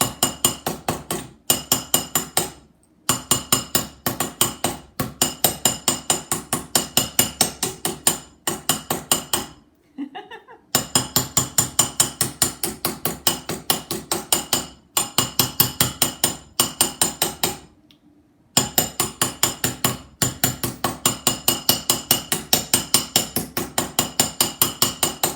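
Steady rapid hammer blows pound metal bottle caps during forging, a fast regular rhythm of sharp close strikes with a few brief pauses between bursts, no voices.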